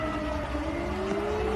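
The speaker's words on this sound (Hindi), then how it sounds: "पूर्वी पोलैंड में सायरन की आवाज गूंजी" Air raid sirens wail across eastern Poland during an air attack alert, a loud, sustained tone gliding slowly upward over a dense, rumbling background, with no voices.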